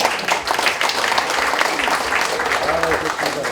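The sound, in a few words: audience applause at a founding ceremony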